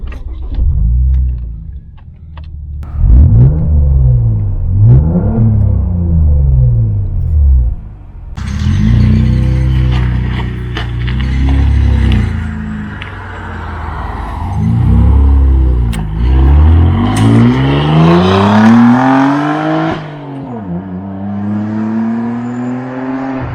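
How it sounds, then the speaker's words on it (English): A stage 1 mapped 2.8 turbo Vauxhall Insignia VXR with a straight-through exhaust drives close by, its loud engine rumbling and repeatedly revving up through the gears with deep rising and falling tones. "This particular car, you can tell it's quite loud."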